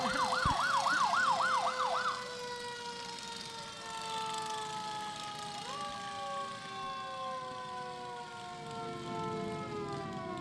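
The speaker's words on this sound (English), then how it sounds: "It's a good thing their sirens are loud." A rescue squad emergency vehicle's siren at a Fourth of July parade in North Carolina: a loud wailing that sweeps up and down, then settles into steady tones as the vehicle passes.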